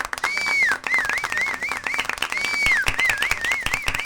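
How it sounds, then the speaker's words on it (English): Applause greets a podcast host's call for a round of applause, a steady clapping wash running under a whistling, warbling tone that swoops up and down throughout. "I think this deserves a round of applause"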